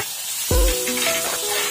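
Kalonji seeds with ginger-garlic paste and chillies are dropped into a hot pan and stirred, starting with a sharp thump and a burst of hissing sizzle that continues steadily, close by, with no talking.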